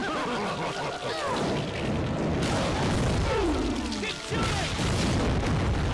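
Repeated heavy booms and blasts from rocket launcher fire in Resident Evil: The Darkside Chronicles, loud and dense, with game sound effects layered throughout and a brief drop near the end.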